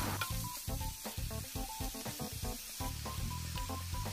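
Soy sauce hits a hot pan with a close hissing sizzle. A choppy, pulsing low rumble and clatter runs beneath it without pause.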